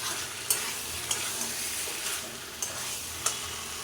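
Potatoes and pointed gourd are stirred with spices in a frying pan over a raised gas flame, a constant sizzle broken by sharp spatula knocks against the pan at irregular intervals.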